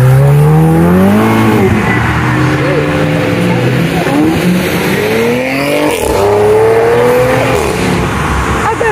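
A Ford Mustang at a car event revs hard and loud, its engine rising and falling with a supercharger whine running over it, and voices underneath.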